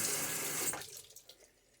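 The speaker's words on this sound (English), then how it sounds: "I'm going to just splash the bottom with a little bit of water." Tap water splashes into a sink during a wet shave, a loud steady rush for under a second before it cuts off into a few faint drips and trickles.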